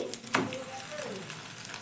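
Egg paratha frying on a pan, a soft steady sizzle with a couple of small knocks near the start, with faint voices in the background.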